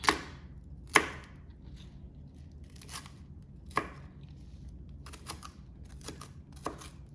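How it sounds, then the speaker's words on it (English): A knife chops celery finely on a cutting board, with sharp, isolated knocks spaced irregularly and soft cutting between them, close and fairly quiet. "Cut it as fine as you can get it. You don't want big chunks."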